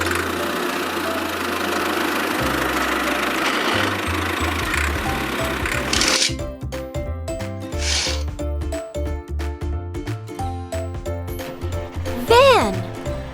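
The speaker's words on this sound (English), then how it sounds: "Tractor." A tractor engine chugs at a low, steady idle for about six seconds, then fades under bright background music.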